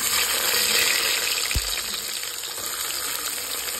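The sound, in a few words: onions added to hot oil and frying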